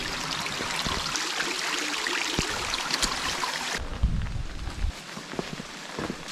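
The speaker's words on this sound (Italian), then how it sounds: "Ovunque ruscellini e cascatine." Running water from small streams and little waterfalls pours along a rainy Norwegian trail toward Preikestolen, a steady broadband rush that stays loud and continuous with occasional footstep-like knocks.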